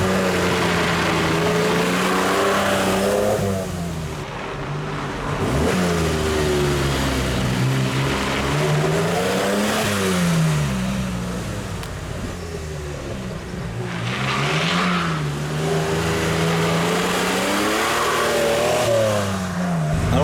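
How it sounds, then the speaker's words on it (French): Alpine A310 V6 sports car engine revving through rising and falling pitches, a continuous loud throaty drone heard from inside as the car accelerates and shifts. "Alors je disais la particularité de ce V6, hein. La sonorité."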